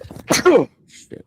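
A single sharp sneeze bursts right into a close microphone, loud and abrupt, followed by a quiet muttered word.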